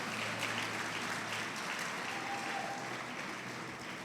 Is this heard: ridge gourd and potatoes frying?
no